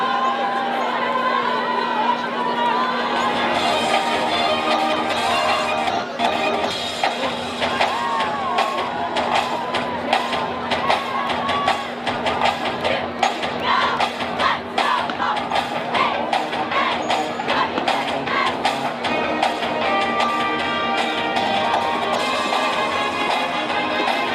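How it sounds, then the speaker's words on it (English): Fans in the stands at a boys varsity high school football playoff game between Redondo Union and Aquinas keep up a long, steady cheer and chatter, with scattered thumps running underneath. "That's Seahawk cheer."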